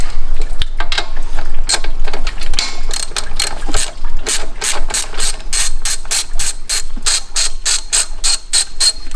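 A ratchet wrench backs off a 12 mm alternator nut on a Subaru STI, giving a rapid run of sharp metallic clicks that grows into a steady, close rhythmic burst of pawl ticks.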